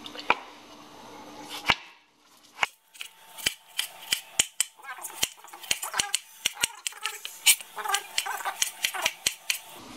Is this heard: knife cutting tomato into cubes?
yes